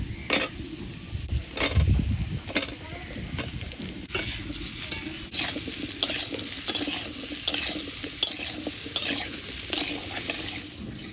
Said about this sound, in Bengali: আলুটা ভাজা ভাজা হয়েছে, এবার কুমড়োটা দিয়ে দেব।